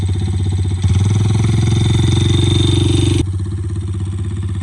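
A lifted 125cc ATV engine chugs steadily and loudly while driving through about a foot of water, rising briefly in pitch as it works harder, then easing back to a lower drone.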